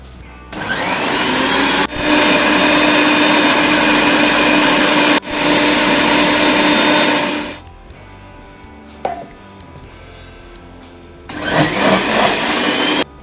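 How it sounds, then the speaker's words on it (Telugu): A mixer grinder whirs loudly, grinding soaked fenugreek and kalonji seeds for herbal hair oil. It runs in three strong bursts with short stops between them, then a quiet gap, then a final burst. "ఇలా స్టార్టింగ్లో కొంచెం మిక్సీ వేసుకోవడం కష్టంగా ఉంటుంది"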